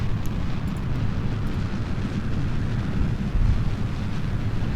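A rocket launching in Kerbal Space Program, a loud continuous roaring rumble of engine thrust, dense and steady throughout, without talking.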